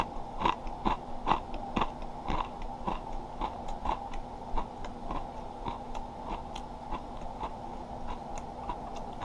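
Misura veggie soy crackers crunched close to the mouth, a quick regular series of dry crisp bites and chews, faint but clear against a quiet background, no talk.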